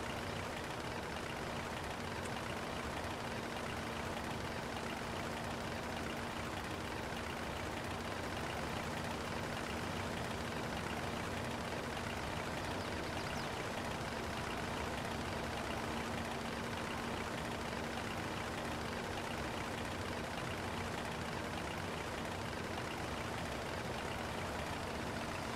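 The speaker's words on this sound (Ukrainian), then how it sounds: "Їде трактор помалу. Трактор їде, кардани не крутяться." A tractor drives slowly in Farming Simulator 22, its engine giving a steady, unbroken drone with a faint constant hum. The sound is even and continuous throughout, with no talk over it.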